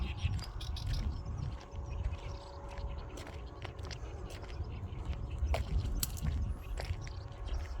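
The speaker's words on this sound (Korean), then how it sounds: "새들이 세상이 밝아오니까 좋은, 기분이 좋은가 봐. 지저귀는 소리가" Scattered bird chirps and calls ring out at dawn against a low outdoor rumble, with faint rustling and distant sounds around them.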